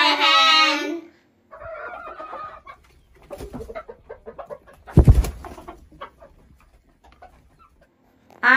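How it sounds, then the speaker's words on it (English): A hen clucks close by in short, uneven bursts, opening with a loud drawn-out squawk, then scattered soft clucks and a sharp flurry near the middle, with pauses of quiet between. "H for hen."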